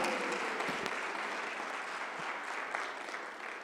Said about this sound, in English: can I kindly ask you all to stand to your feet and give a round of applause